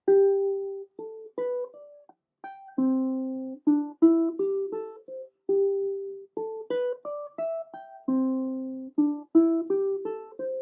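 A plucked string instrument plays a bright, bouncy riff of short notes, repeating the phrase twice, clean and close with no talking.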